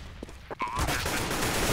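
Dense gunfire in Counter-Strike on de_mirage during an EPS Winter 2014 cup match, starting with a few separate shots and building into a continuous loud fusillade.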